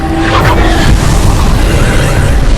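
The Incendio fire spell in Hogwarts Legacy gives a loud, dense roaring whoosh of flame that stays steady and close for a few seconds with no break.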